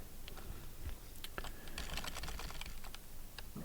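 Rapid keystrokes on a computer keyboard while code is written on an Amiga 500, a close, steady run of clicks with uneven rhythm and a few louder taps, no voice.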